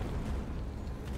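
A rocket explosion in the World War II shooter Hell Let Loose rumbles as a steady, loud low boom with a sustained roar that fills the whole moment, with no voices over it.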